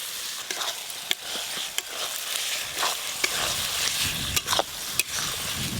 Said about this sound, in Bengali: এইভাবে নাড়তে নাড়তে টমেটো কুচিগুলো বেশ ভালো করে গলিয়ে নেব।